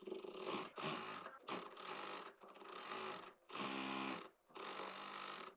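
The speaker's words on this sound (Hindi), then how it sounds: "अब यहीं से सिलाई लगाएंगे।" A sewing machine runs in several bursts of steady stitching, sewing a fabric hem over elastic on a twelve-panel palazzo. The bursts are separated by short pauses, and no one speaks.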